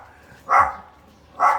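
Two loud, close barks from the neighbor's dogs at a house in the Philippines, about a second apart, with quiet pauses in between.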